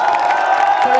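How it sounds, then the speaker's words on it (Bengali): A college social audience in a hall responds with loud, sustained crowd noise of clapping and cheering, a steady wash of applause with scattered whoops carrying on for the whole second. "সবাই একবার আলেমদার জন্য একটা জোরে হাততালি।"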